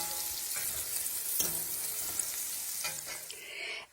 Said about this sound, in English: add them right now to your bacon grease and let them saute until they're translucent in color